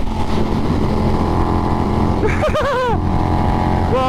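A big, loud, wobbly motorcycle engine drones steadily up close, and a voice breaks in briefly over the engine midway.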